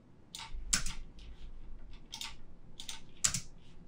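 Keys clack on a computer keyboard in a few separate bursts, with the space bar pressed among them, close and fairly crisp against a quiet room.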